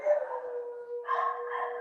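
Dogs at a home give whiny, howl-like barks in two short bursts, faint and close, with no talking.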